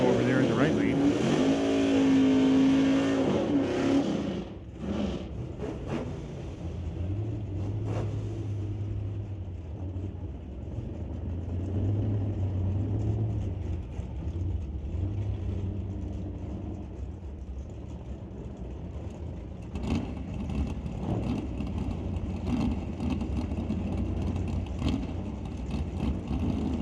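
Drag race cars, including a flat black Camaro, launch at a drag strip with a loud engine roar that tapers off into a distant rumble while an announcer talks throughout.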